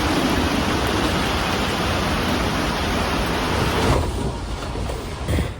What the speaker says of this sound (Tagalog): Grabe yung ulan mga kigwahers, oh.